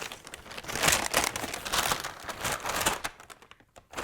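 Crinkling and tearing of plastic and paper packaging as a Christmas countdown box package is unwrapped, close and continuous with bursts of rustling, fading near the end.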